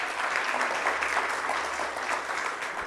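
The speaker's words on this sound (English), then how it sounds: "Can we give the Deputy Chair a round of applause again?" Audience at a school debate competition applauding, a thick, steady burst of clapping from a crowd heard throughout the short stretch.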